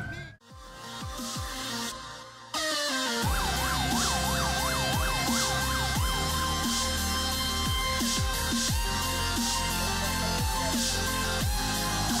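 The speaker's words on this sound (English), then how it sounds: "here comes the ambulance" An ambulance siren wails and yelps up close in the video game GTA 4, continuous and loud over a bed of traffic and engine noise, the pitch sweeping rapidly up and down after a brief break.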